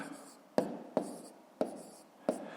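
Digits written by hand with a pen while working a fifth-grade column multiplication problem: four short, crisp scratchy strokes, evenly spaced and close up, with quiet room tone between them.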